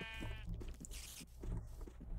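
A sheep in the Minecraft video game bleats once, a clear wavering call near the start, with lower game sounds continuing underneath.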